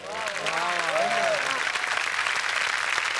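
A studio audience at the Marathi comedy show Chala Hawa Yeu Dya bursts into dense, steady applause. The clapping starts with a brief voice over it and then carries on evenly to the end.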